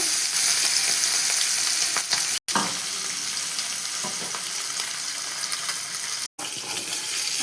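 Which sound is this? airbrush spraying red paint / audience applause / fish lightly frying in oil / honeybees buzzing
fish lightly frying in oil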